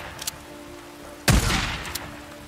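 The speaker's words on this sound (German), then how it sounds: "Er schießt auf uns." Gunfire in Days Gone: one loud close crack with a rolling, crackling tail, framed by faint sharper pops before and after.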